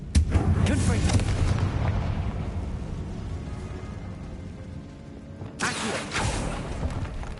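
A Confringo blasting spell erupts in Hogwarts Legacy as a loud, rumbling explosion that fades slowly, followed after a quieter stretch by a second sharp, crackling blast near the end.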